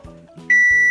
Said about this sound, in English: As you can hear, my timer's going off